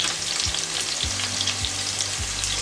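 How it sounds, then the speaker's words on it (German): Onions fry in a hot pan with a steady bright sizzle, broken by several regular low scraping thumps as they are stirred, close and loud with no talking. "Gebratene Zwiebeln, der Duft ist lecker"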